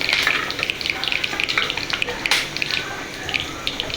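Mustard seeds, cumin, cinnamon, cloves, star anise and a bay leaf fry in hot oil with a dense, continuous crackle and spatter, sharp pops scattered throughout and one louder burst midway, close and steady with no voices.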